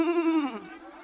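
A human voice imitates a goat's bleat, giving one short, wavering, nasal cry close to the listener that fades away in about a second.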